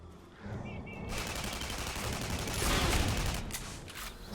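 Rapid automatic weapon fire from the video game Tribes: Ascend bursts in loudly after a brief quieter start and continues as a dense, sustained rattle, with a few sharper shots near the end.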